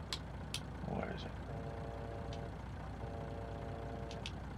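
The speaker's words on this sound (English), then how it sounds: "I don't know if y'all heard that, but I like that horn too." A semi truck horn in Farming Simulator 19 gives two long, steady blasts, each lasting over a second, over a constant low engine rumble.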